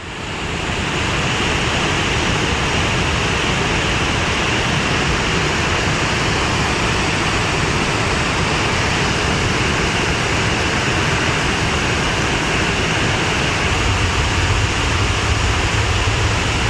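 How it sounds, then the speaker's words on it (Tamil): Water roaring down the Panchalinga waterfall in the Thirumoorthy hills near Udumalai during monsoon flooding, a loud, constant broadband rush that fills the scene without pause. "உடுமலை திருமூர்த்திமலை பஞ்சலிங்க அருவியில் தண்ணீர் ஆர்ப்பரித்து கொட்டுவதால்"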